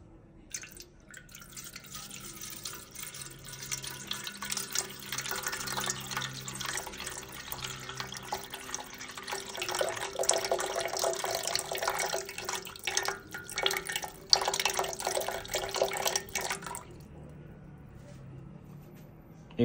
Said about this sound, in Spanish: Vamos a poner 300 gramos de agua a temperatura ambiente.